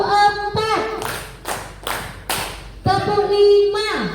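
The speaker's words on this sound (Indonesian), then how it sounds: "Tepuk 1, tepuk 2, tepuk 3, tepuk 4" A group playing a counted clapping ice-breaker game claps a few sharp, close beats in unison between bursts of a sung or chanted voice, the claps landing as distinct loud slaps.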